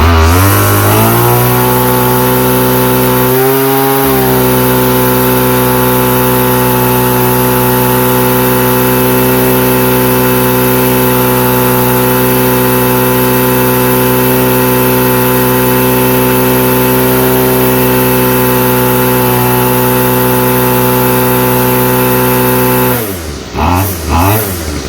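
A Stihl FS45 string trimmer engine runs flat out at full throttle, a loud, steady, buzzing two-stroke whine held close for over twenty seconds, with a brief dip near the start before it winds down at the end.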